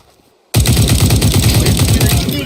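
After a brief quiet moment, video game shotgun fire erupts suddenly and continues as rapid, loud, evenly spaced blasts until the end.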